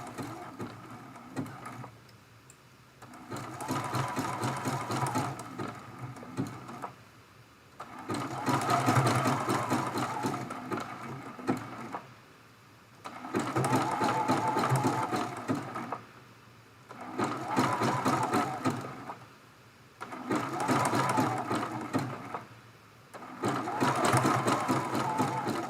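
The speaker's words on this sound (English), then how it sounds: "I'm just going to do a simple zigzag stitch to stitch this center circle in place" Sewing machine running a zigzag stitch to appliqué a center circle on a Dresden plate quilt block, heard close in five steady bursts of whirring stitching separated by brief pauses.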